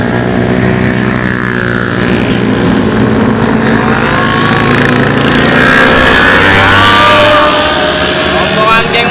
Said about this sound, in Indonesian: Rombongan geng motor.